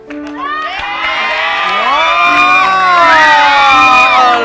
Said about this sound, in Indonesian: Tepuk tangan sekali lagi untuk Vidi.